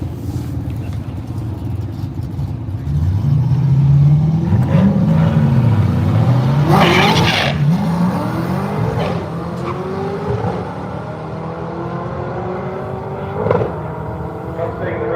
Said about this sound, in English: Rachel Gray in the left lane with a stick shift Firebird